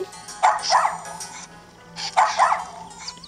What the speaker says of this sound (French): Donc là on les voit papoter entre chiens.